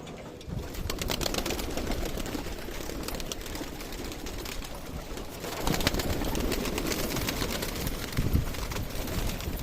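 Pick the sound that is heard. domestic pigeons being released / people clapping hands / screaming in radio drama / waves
domestic pigeons being released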